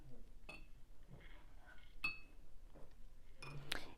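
A watercolor brush rinsed between colors, tapping and clinking faintly against a glass water jar in a few light, scattered knocks in a quiet room.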